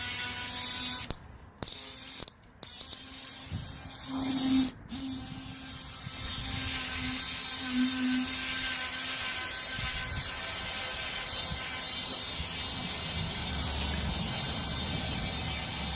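A Brush Hero rotary cleaning brush switched off and on, cutting out in short gaps before spinning steadily with a whirring, ratcheting buzz, used to clean tight spots around pivot bike links; no talk.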